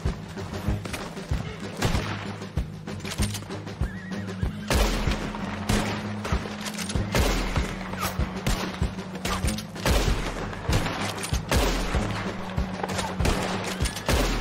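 Rapid, dense gunfire from a Wild West video game pops out in a continuous, loud barrage over busy game noise and a low droning background.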